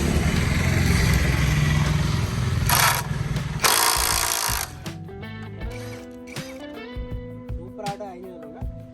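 A Guest RS510 cordless impact wrench loosens a vehicle wheel with a loud, continuous hammering rattle that stops partway through, leaving clicks and faint mechanical ringing, with someone talking over it.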